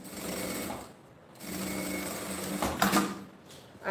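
A sewing machine runs in steady bursts, stitching the fabric lining of a pouch bag, with a brief pause partway through before the motor picks up again, close and clear.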